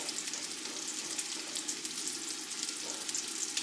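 Carrots frying in a pan with other ingredients, a steady close crackling sizzle throughout with no talk.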